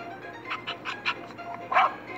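A dog barking sound effect for a children's story about a greedy dog: a quick run of small, yappy barks followed by a louder whining yelp, moderately close and heard alone without speech.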